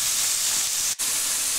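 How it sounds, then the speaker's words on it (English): Lamb stir-frying in hot oil gives a steady, close hiss with a brief break near the end. "We want to hear that sizzle to make sure the lamb is going to brown and not just boil"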